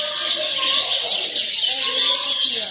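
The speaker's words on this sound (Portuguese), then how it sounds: "Esse tem um local ali que só tem passarinhos." Small parakeets chirp and twitter for sale at an aquarium shop in São Paulo, a dense, steady high-pitched chatter from many birds close by, with faint voices in the background.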